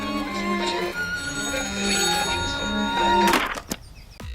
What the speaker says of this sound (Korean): 전화를 받고 있는데 또 따르릉 소리가 들림